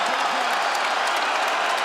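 At UFC 202, an arena crowd applauds and cheers after the fight, a loud, continuous wash of clapping and roaring with no breaks.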